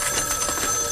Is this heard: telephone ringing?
yes